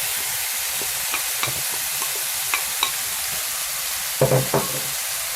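Green zucchini frying in a pan with a steady close sizzle and a few scattered clicks of a spoon, followed near the end by a short burst of stirring and scraping.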